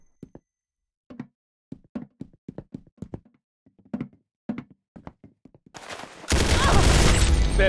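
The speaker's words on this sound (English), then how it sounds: "Very good shooting." Gunfire in the video game Valorant rings out as a string of sharp, evenly spaced shots over several seconds, followed by a sudden loud burst of dense noise at the end.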